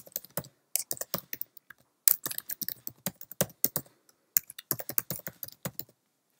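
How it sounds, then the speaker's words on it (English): Rapid, irregular key clicks on a computer keyboard as an email address is typed on a Mac desktop, crisp and close with short pauses between bursts, no voices. "So the first thing you have to do is type in your mobile number or your email address."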